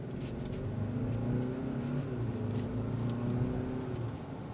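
A 2025 Hyundai Santa Fe XRT accelerates hard, with a steady engine drone rising slightly in pitch, heard from inside the cabin under road noise and without any talking.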